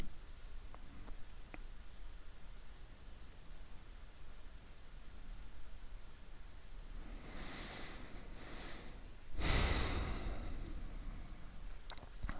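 A person doing a trauma speaking exercise breathes deeply, with a couple of soft breaths followed by one heavy, close exhale over a quiet, hissy room. No one speaks.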